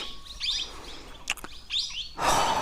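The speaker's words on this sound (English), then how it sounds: "And the birds are chirping." Birds chirp and tweet outdoors in short, scattered calls over a soft background hush, with a brief clatter midway and a louder rush of noise near the end.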